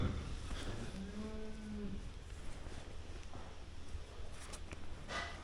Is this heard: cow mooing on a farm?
yes